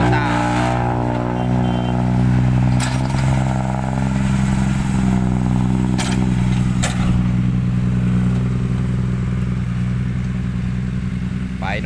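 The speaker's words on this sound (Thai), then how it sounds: "ให้รถไถปูทางครับรถไถนี่ทำหน้าที่2อย่างครับฉีกตัวด้วยดันดินด้วย" A bulldozer ripping up ground and pushing soil, its heavy engine droning steadily and close, with a few sharp knocks and clanks breaking through the constant rumble.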